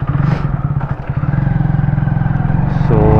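A motorcycle engine runs loud and close with a steady, throbbing rumble that swells slightly toward the end.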